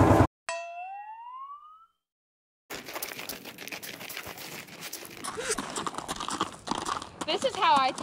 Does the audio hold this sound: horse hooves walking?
yes